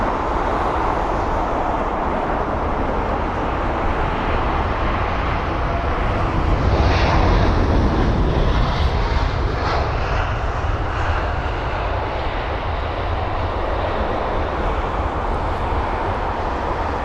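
A British Airways Airbus A320-200 arriving at London Heathrow fills the air with a steady broadband jet roar, swelling slightly mid-way and holding at moderate distance with no talk.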